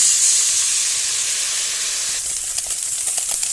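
Raw tomato, green chillies, turmeric and chilli powder frying in a pan with a little water added, giving a steady loud sizzle and hiss that roughens into crackling toward the end, with no talk.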